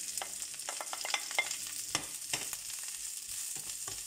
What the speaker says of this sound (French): je vais faire sauter un peu les choux chinois